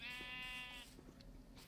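A single Minecraft sheep gives one clear, close bleat that trails off, followed by faint soft game sounds.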